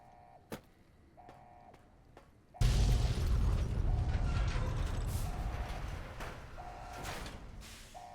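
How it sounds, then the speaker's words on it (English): An explosion in Fallout New Vegas bursts in after a few scattered metallic clicks, then rumbles on with crackling, roaring debris for several seconds before slowly easing. "This place is still exploding."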